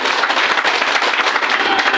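A crowd applauds with dense, sustained clapping, loud and steady throughout.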